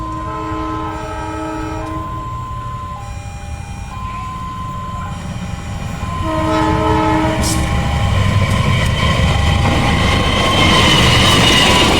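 A commuter train horn sounds in repeated blasts while a Commuter Line train rumbles nearby, its loud roar and rattling growing as it passes close.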